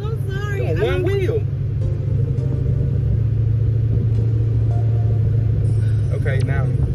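Manual car engine rumbling and droning steadily from inside the cabin during a driving lesson, loud and continuous, with brief voices at the start and end.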